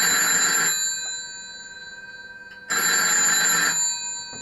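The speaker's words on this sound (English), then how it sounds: "That's ringing a phone down there, 23." An Onyx telephone rings on aisle 23, two loud electric bell bursts of under a second each, separated by about two seconds of silence, close by and alone.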